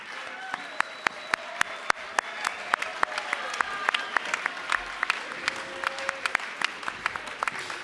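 Applause at a national party conference of the PCF after vote results are announced, a dense, sustained clapping from a large hall crowd, steady and fairly loud throughout.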